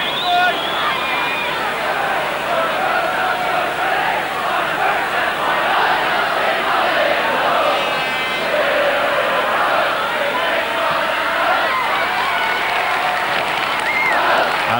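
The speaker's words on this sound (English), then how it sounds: "the large crowd there a little bit disappointed with the referee's decision on that one" A large rugby crowd at a schools cup final reacts with a sustained, broad roar and murmur of disappointment after a referee's penalty decision, steady and fairly loud throughout.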